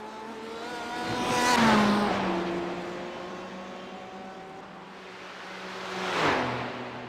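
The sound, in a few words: race car engines at Le Mans in racing video game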